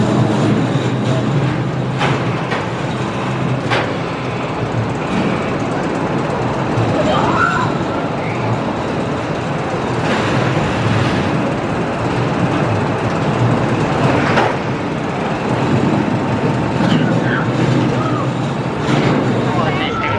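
Wild mouse roller coaster trains run at an amusement park, a steady rumbling clatter of cars on track with a continuous crowd murmur, loud and unbroken throughout.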